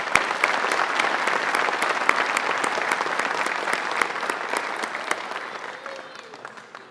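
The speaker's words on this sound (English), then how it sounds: "We could give them a round of applause," Graduation ceremony applause for Pathfinders graduates, a full crowd clapping loudly and steadily for several seconds before tapering off near the end.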